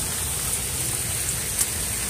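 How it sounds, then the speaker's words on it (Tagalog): Heavy rain pours steadily in an outdoor coastal setting, a dense continuous hiss with occasional louder drops, no voices. "ang lakas pa rin yung ulan"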